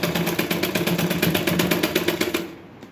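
For a blouse seam, a sewing machine runs a back-stitch in a loud, steady, rapidly pulsing mechanical whir for a couple of seconds, then stops abruptly.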